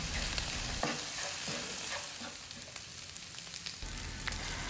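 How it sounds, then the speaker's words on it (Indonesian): Orek tempe, a sweet-savory Indonesian fried tempeh dish made without sweet soy sauce, is stirred and fried in a pan, giving a steady sizzle broken by the repeated scrape of a spatula against the metal. No one speaks. "Jadi cuma ini aja, Mama aduk-aduk."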